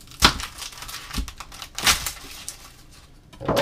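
A knife slicing an onion in half on a kitchen cutting board, with a few crisp, crunchy cuts close by and spaced apart. Quiet pauses fall between the cuts.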